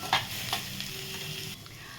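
Chana dal sizzles quietly in a pan while a utensil scrapes and stirs it, with a couple of brief clinks near the start.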